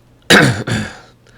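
Two quick, harsh coughs close to the microphone, the second slightly softer, followed by quiet.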